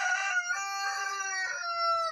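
A rooster crows in a backyard coop built from old barrels, a long, loud, harmonic cock-a-doodle-doo heard alone and up close.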